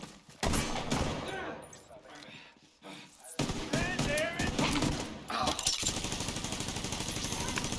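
A deployed turret firing in Tom Clancy's The Division 2, loud rapid bursts of automatic gunfire settling into a steady rattling stream amid chaotic battle noise, with players talking over it.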